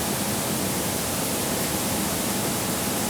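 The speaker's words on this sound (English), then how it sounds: "It's really quite loud in here, but I wanted to show you the final process." Coffee processing plant machinery with a colour sorter and conveyor fills the space with a loud, dense, unbroken roar, steady from start to finish with no talk.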